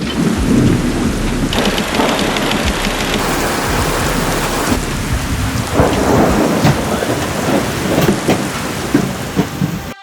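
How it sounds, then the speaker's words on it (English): Heavy rain pours steadily while deep thunder rumbles and rolls throughout during a lightning storm at sea aboard a sailboat off Central America, loud and close, with no voices. "We've been hearing thunder and seeing lightning both on port and starboard"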